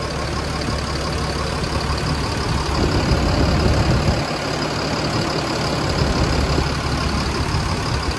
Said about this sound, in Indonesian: Jadi baru digas terus didiemin, keluar air dari radiator.